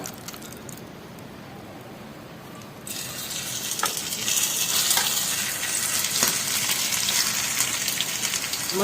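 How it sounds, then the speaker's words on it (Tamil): Mutton pieces dropping into hot oil, the fry swelling into a loud, steady hissing sizzle after a quieter start, with a few light clinks as pieces go in, close up. "வச்சுட்டு நம்ம எண்ணெயில் அப்படியே பொரிச்சிடலாம்."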